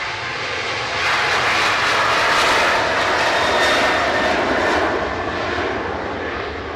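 Jet engines of a new SunExpress airliner at Manchester Airport, a steady broadband roar and whine swelling slightly then easing, fairly loud and continuous, no talking.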